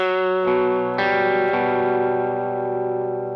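Three electric guitar notes from a song, the 4th string, the 5th, then the open 3rd, ring out with a chorus-like shimmer and light distortion, sustaining and slowly fading, close and clear.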